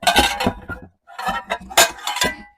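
Cast-iron skillets are pulled from a box full of pans, making loud, close clattering knocks and scrapes in two bursts separated by a short pause.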